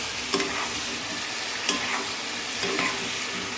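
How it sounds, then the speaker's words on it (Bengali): Spices and turmeric powder sauté in a pan for a fish curry with taro, with a soft steady sizzle broken by a few sharp spoon scrapes and knocks against the pan. "এবার দিয়ে দেব পরিমাণ মতো হলুদ গুঁড়ো। দিয়ে আমি সুন্দর করে কষিয়ে নেব।"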